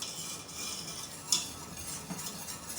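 A spatula stirs cocoa powder chocolate syrup continuously in a pot, giving soft scraping and light clinks with one sharper knock against the side.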